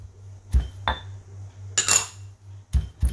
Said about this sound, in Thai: แล้วก็โขลกให้เข้ากันนะคะ